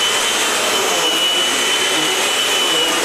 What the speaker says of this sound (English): So this is a new vacuum my wife and I picked up at Walmart the other day.